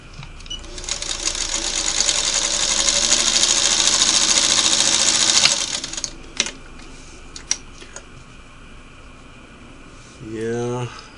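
A Singer Model 301A sewing machine runs a steady top stitch at 12 stitches per inch, loud and whirring for several seconds, then stops into scattered clicks and taps. A voice speaks briefly near the end.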